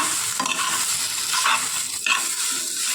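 Jackfruit pieces are stirred in a pan, a short close burst of scraping and shuffling over a soft sizzle, with no talking.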